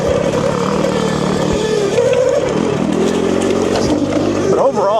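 An ETM RTR motorcycle rides off-road over rocky ground, its engine droning and shifting pitch with throttle changes alongside clattering from the rough terrain, while someone talks throughout.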